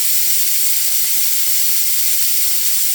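Massive 1960s LeRoi trailer-mounted air compressor running as a loud, continuous broadband hiss with a steady rushing roar and no breaks, close by.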